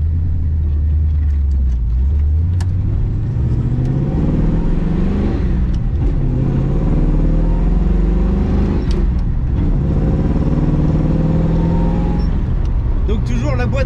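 A Pontiac Firebird with a Tremec 5-speed gearbox cruises on a small country road, its engine rumbling loudly and rising and falling through gear changes over the whole stretch.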